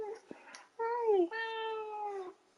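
A pet cat meows twice in drawn-out, rising and falling calls, close and clear, with a softer chirp just before, in a quiet indoor room.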